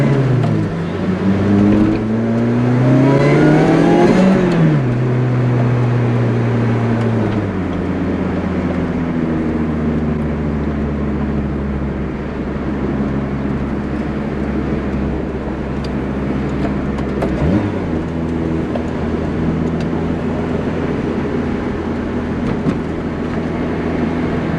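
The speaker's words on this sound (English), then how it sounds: "you do feel like a really small car when you're driving a Lotus Exige around" A Lotus Exige S sports car driven on a road at twilight, heard from inside. Its loud engine revs climb, then drop at a gear change, settling into a steady droning cruise with another brief shift later.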